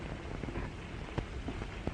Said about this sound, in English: Oh, is it raining outside?